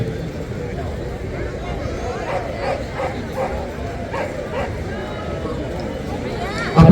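Army dogs bark and yip during an Independence Day dog show demonstration, with scattered short barks over steady crowd noise and a voice talking throughout.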